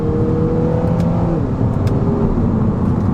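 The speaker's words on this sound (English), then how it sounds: "Try some manual shifts. We're in second. Listen to that VTEC." A 2021 Acura ILX A-Spec engine revs hard inside the cabin through manual shifts in second gear with VTEC engaged, giving a loud, continuous climbing drone with a slight pitch shift midway.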